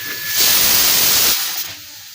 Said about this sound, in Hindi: अब इसमें कितनी बार भी सीटी आएगी, आपकी दाल नहीं फैलेगी।